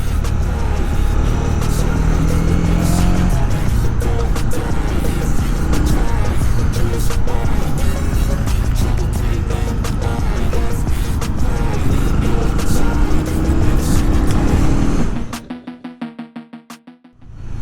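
A Honda CB250R motorcycle rides and accelerates from low revs in third gear, a loud, steady engine roar mixed with wind rush for most of the run, then dropping away sharply near the end.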